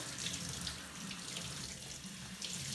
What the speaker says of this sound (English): it cleans them and all the dirty water runs right through